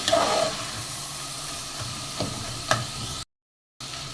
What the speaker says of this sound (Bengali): বুটের ডালগুলো আমি টমেটোর সাথে ভালোভাবে কষিয়ে নিচ্ছি